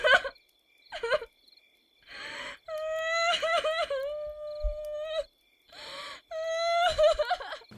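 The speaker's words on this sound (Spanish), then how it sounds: "escucharon un llanto muy lastimero de entre las tumbas" Long, mournful wails drawn out among cemetery tombs, several sustained cries rising and sagging in pitch, broken by gasping breaths and short whimpers, fairly close and loud with brief silences between.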